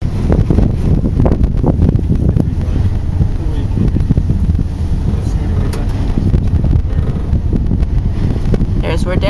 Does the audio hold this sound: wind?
yes